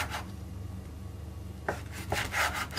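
Bread being chopped with a knife into small cubes for oven toasting, heard as a few separate crisp cuts near the end after a quiet stretch of faint rubbing, close up with no talk.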